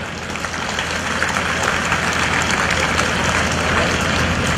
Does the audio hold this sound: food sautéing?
no